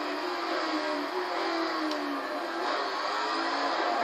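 A Corvette engine drones and revs steadily in a racing game, its pitch climbing and dipping as it accelerates, loud and continuous without speech.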